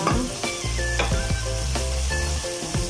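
Ginger, garlic, onion and tomato sizzle loudly as they sauté in a pan for clams, a continuous close frying crackle broken by several sharp stirring knocks and scrapes.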